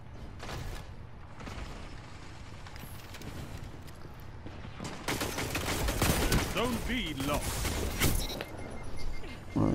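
Gunfire in the shooter game Destiny 2, a burst of fast shots growing louder in the second half over game sound and other noise.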